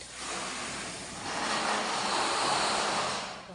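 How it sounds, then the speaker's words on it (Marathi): Water runs inside a house as a steady, broad rushing hiss that swells slightly midway and stays fairly close throughout. "पाण्याचा आवाज किती येतो"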